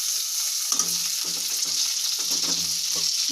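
Boiled, mashed potato fries in a hot oiled pan on a stove, giving a steady loud sizzle with intermittent stirring scrapes throughout, no voices.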